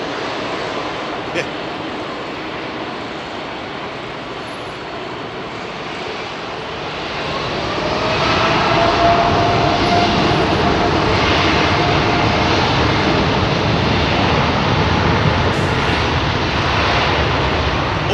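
Jet engines of a British Airways Airbus A380 at London Heathrow, a broad roar that swells and holds loud in the latter half, with a distant airy wash underneath and the odd faint sound from nearby.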